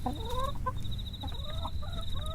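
Chickens cluck and murmur softly close by in a quiet nighttime household, with a steady high insect-like tone running behind the fowl calls.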